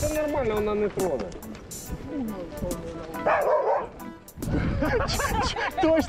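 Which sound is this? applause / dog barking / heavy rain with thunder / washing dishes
dog barking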